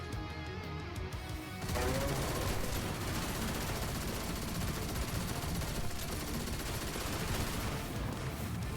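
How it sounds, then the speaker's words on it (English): In Destiny 2, an enemy opens up on a metal railing: a sustained, loud stream of rapid automatic fire that starts abruptly and rattles on for several seconds, with no speech. "He was basically shooting the railing."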